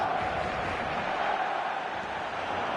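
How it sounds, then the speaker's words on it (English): Steady stadium crowd roar from an eFootball 2025 match, a dense continuous wash of many voices at even loudness with no single call standing out. "The crowd are calling for this to be put to bed"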